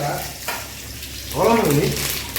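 Curry leaves and dried red chillies sizzle in hot oil with a steady frying hiss, as a voice speaks over the crackle partway through.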